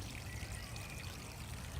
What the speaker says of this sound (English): that is Bear Creek there, by the way, flowing through Bear Creek Gardens. It's not a rushing creek.